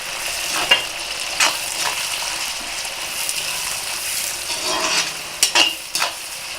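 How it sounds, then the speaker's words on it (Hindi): Thinly sliced onions fry in oil over a medium flame, a steady close sizzle with occasional scrapes and clinks of a spoon stirring the pan. "अब इसे हम मीडियम फ्लेम पर फ्राई करेंगे"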